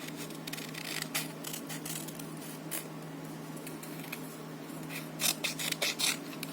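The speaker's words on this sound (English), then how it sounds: "Well, I'll just roughly cut around the spider." Scissors snip through paper, roughly cutting out a paper spider for a Halloween hanging decoration, as a series of quiet, close, irregular clicks and rustles that bunch into a quicker burst near the end.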